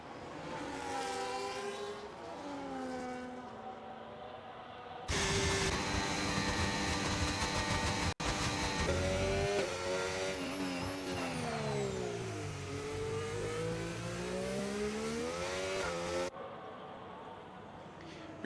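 An Aston Martin race car on hard compound tyres pulls out of the pit lane in a racing video game at a Brazil round, with a loud, sustained engine note that rises and falls in pitch as other cars pass.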